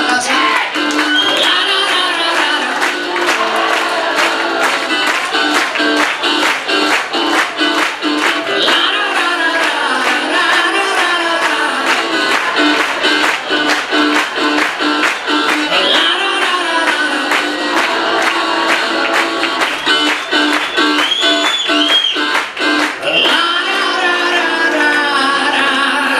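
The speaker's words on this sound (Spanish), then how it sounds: "Que suenan esas palmas, raza." An audience claps along at a rock concert in the Fonoteca Nacional de Mexico, steady rhythmic hand claps repeating throughout over loud crowd and music.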